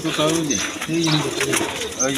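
Domestic pigeons, including silver and high-flying breeds, coo in low repeated throaty phrases close by in a loft with eggs and chicks, while people talk over them.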